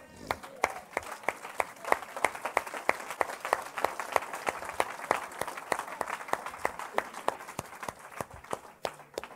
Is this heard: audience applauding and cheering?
yes